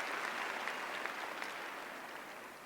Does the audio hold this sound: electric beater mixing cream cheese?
no